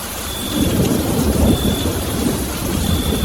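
Steady rain with a deep, continuous rumble underneath, loud and unbroken throughout, like a storm with low thunder rolling in the distance.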